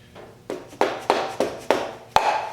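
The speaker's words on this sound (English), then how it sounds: "This is a soft hammer," A soft hammer strikes the engine of a 1968 Triumph Spitfire MK3 during teardown, producing six firm, dull knocks at a steady rhythm, each fading quickly, close by in a quiet workshop.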